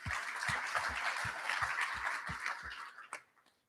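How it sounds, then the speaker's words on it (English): Demo day audience applause for startup pitch presentations, a short dense round of clapping at moderate distance. A low rhythmic thumping runs beneath it, and the round fades out with a few final claps. "quick round of applause for all of the previous presentations and the ones still to come."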